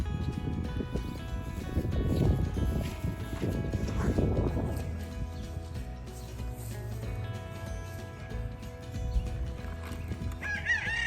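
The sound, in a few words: chickens crowing and clucking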